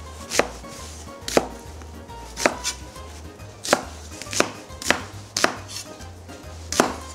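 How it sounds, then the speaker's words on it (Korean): Onions are diced with a knife on a cutting board, giving about nine crisp, sharp chops at an uneven, unhurried pace, close and loud against a quiet low hum. "다음으로 양파 2개도 깍둑 썰어 준비해 주세요."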